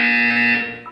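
A buzzer from the video game Portal 2: one loud, steady electronic tone held for about a second, then quickly dying away.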